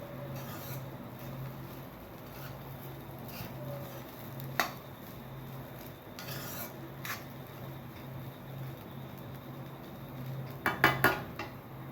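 Egg fried rice being mixed with noodle masala in a pan, with soft scraping and rubbing of a utensil against metal, occasional louder clinks and a brief cluster of clatter near the end, no talk.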